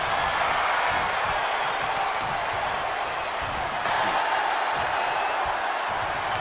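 Steady, dense crowd roar from a WWE 2K22 wrestling video game arena, loud and continuous for the whole stretch with a slight swell near the middle, with no break or separate voices.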